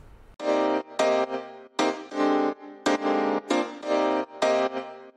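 Synth chords driven by an arpeggiator in chord-trigger mode with 16th-note swing bounce in short, bright stabs, grouped in uneven swung bursts with gaps between, moderately loud and alone.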